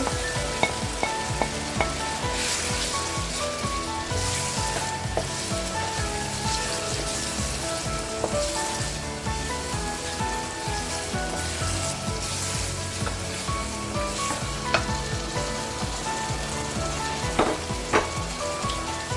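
Onions fry in a pan for thieboudienne, a loud, dense, continuous sizzle like heavy rain that holds steady throughout, with scattered clicks and no voices.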